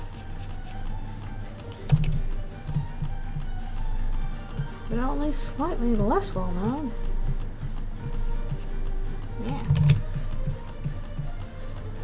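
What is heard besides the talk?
crickets chirping at night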